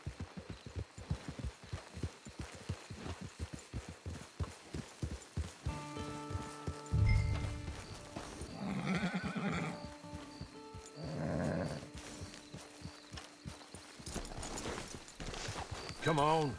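Rhythmic clip-clop of horse hooves plods steadily in Red Dead Redemption Online, then voices speak over it alongside sustained tonal sounds, with occasional heavy low thuds.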